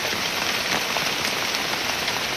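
Rain falls steadily through a forest on a solo jungle trek, a loud, close, continuous patter of drops on foliage with no voices.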